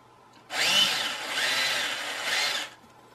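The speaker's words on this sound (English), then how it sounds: "now I'll take the servo out of position so I can drill these holes" A power drill with a 3/32 inch bit bores holes for a servo mount during model aircraft assembly, a loud steady whine running about two seconds with slight pitch dips, close to the microphone and no talk.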